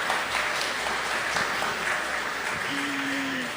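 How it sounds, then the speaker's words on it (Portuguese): Sustained audience applause at a talk for Senior Citizens' Week, many people clapping steadily and fairly loudly throughout, with a brief tonal hum near the end. "Para quem eu peço uma salva de palmas."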